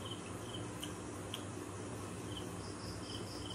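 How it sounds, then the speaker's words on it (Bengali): Crickets chirp at night, heard through an open window as steady high trilling with a few brief pulses, faint over a constant low hum, likely from a fan, with no talking. "আর ঝিঝি পোকার আওয়াজ শুনেছো"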